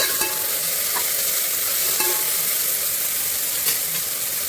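Onions fry and brown in a pan for vegetable biryani, giving a steady close sizzle with occasional stirring scrapes and no talk.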